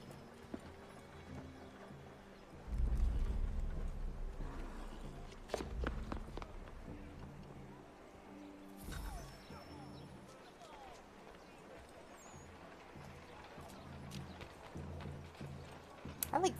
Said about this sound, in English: I'm taking this horse.